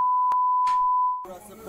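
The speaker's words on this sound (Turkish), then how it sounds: "Lan niye biplediniz?" A loud, pure electronic censor bleep holds steadily for about a second, broken by short clicks, then cuts off into faint background noise.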